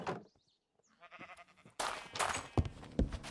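Sheep bleating in a video game, heard as a few short, wavering calls. A louder clatter of game sounds and thuds follows.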